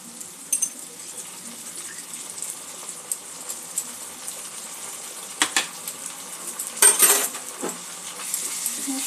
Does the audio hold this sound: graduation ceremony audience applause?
no